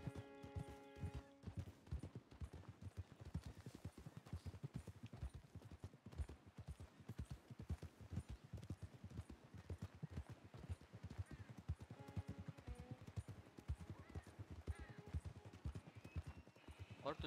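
Horse hooves in Red Dead Redemption 2 beat out a continuous, fairly quiet clip-clop gallop, with a faint short musical cue at the start and again near the middle.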